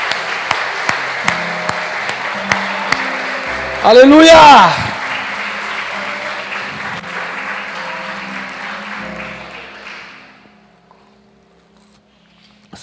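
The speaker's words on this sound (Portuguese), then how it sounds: "Vamos aplaudir bem forte a Jesus." Church congregation applauding loudly at a worship service, a dense wash of clapping that runs for about ten seconds with a loud shouted voice near the start before it fades to quiet.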